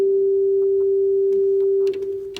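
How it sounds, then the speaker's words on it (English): A pure, steady sine tone from a Nord Stage 2 synthesizer holds at one pitch, alone and unwavering, with a few faint clicks near the end. "if we come over to the synth and make a sine wave"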